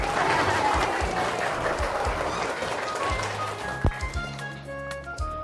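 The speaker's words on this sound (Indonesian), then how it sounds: "Yeay, tepuk tangannya." Audience applause greeting the Danish ambassador at an event in Indonesia, a dense, steady clapping crowd that thins out toward the end, with some tones and scattered sounds appearing underneath.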